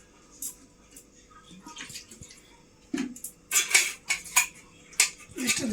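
Cooked rice is served onto a dish with a metal spoon: faint clinks at first, then louder scraping and clattering against the plate.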